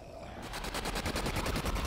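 Rapid explosive bursts from grenades going off in a video game, loud, dense and continuous for about two seconds, with no talking over them.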